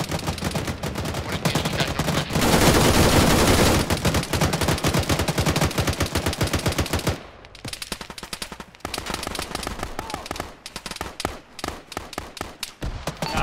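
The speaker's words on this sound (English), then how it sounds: "There's a machine gun right next to us" Machine gun fire in the ArmA military shooter, dense rapid bursts of automatic gunfire, very loud and sustained for several seconds, then broken into shorter volleys with brief gaps.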